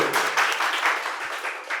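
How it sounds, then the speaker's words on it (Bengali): Audience at a medical college quiz competition claps for a correct answer, giving a short, close burst of rhythmic applause that fades in and out in waves. "একদম সঠিক উত্তর, জোরে হাততালি"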